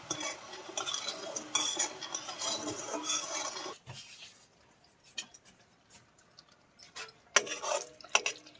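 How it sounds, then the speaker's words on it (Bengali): Sugar melting into syrup in a pan, stirred steadily with a utensil for a few seconds, then a quieter stretch of scattered scrapes and light clinks against the pan, all close by. "এরকম ভাবে নেড়ে নেড়ে আমার চিনিগুলো গলে যাচ্ছে।"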